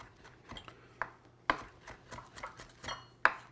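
Fresh cilantro is chopped with a knife on a cutting board in a series of sharp, uneven taps, a few louder knocks standing out among quicker light cuts, close and without talk.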